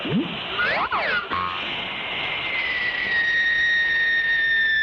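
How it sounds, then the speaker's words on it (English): A cartoon anti-condor signaling device fires with swooping, warbling whistle tones, then settles into a steady shrill whistle that holds to the end, loud and close with no voices. "Time to use my special anti-condor signaling device."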